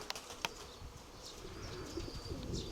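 Pigeon chased by swifts in open air: a couple of brief, soft wing flaps early on, then faint high chirps from the distant birds over quiet background noise.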